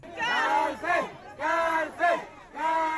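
Angry mob of Mayans shouting at a woman, rhythmic bursts of many voices chanting in unison, loud and repeated roughly every second.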